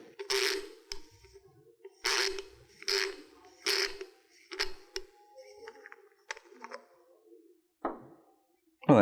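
A threaded cap being unscrewed from a Flotect flow switch, heard as a series of short scraping, clicking turns with brief pauses between them, close and moderately loud.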